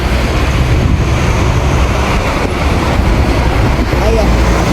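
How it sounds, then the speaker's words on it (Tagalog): Strong wind roars across the microphone outdoors near a golf clubhouse during a jog, a loud continuous buffeting rush with no break. "Mahangin po. Super. Ang hangin."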